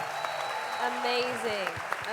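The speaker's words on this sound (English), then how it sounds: "could you guys just give it a round of applause for all of those that are here?" Church audience applauding a marriage and relationships panel, a brief burst of clapping mixed with cheering voices and talk from the crowd.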